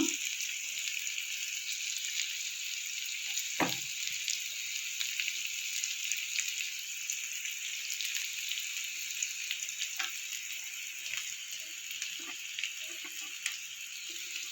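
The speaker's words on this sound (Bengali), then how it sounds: "পেঁয়াজটা আমার কিছুটা ভাজা হয়ে গেছে" Steady high sizzle of onions frying in a pan, continuous and close, with a few soft clinks and stirring scrapes; no talking.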